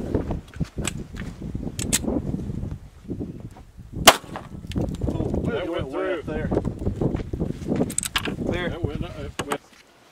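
A 40 S&W 115 grain frangible round is fired into a sheetrock box, giving one sharp, loud report partway through over a busy background of muffled voices and handling noise.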